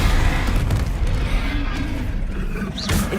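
A dense, rumbling magical blast from the Bombarda explosion spell in the wizarding game Hogwarts Legacy rolls on loudly and continuously, with heavy low booms and crackling combat effects filling the whole stretch.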